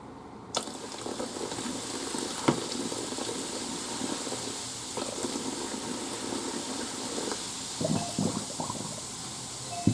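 A homemade silver polish solution fizzes and bubbles in a sink, a steady hissing wash of fine bubbling with a few faint clinks and knocks near the end.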